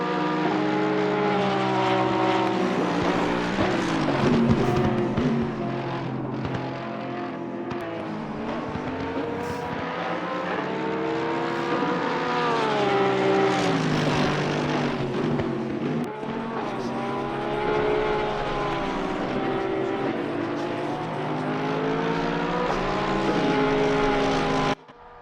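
An orange-liveried Porsche race car at Silverstone in Assetto Corsa Competizione, its engine roaring loud and continuous with rising and falling revs through gear changes, sustained for the whole stretch.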